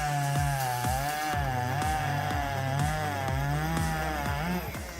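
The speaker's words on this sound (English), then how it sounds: "I'm sure you'll love this giant chainsaw wood cutting demonstration" A giant chainsaw cuts through wood during a demonstration, loud engine whine with a wavering pitch and a rapid repeating chug of the chain biting in, steady and close throughout.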